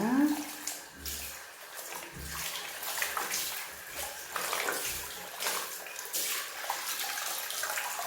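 Salted napa cabbage being rinsed by hand for kimchi, with water splashing and sloshing in a basin alongside running tap water, moderately close and without talk.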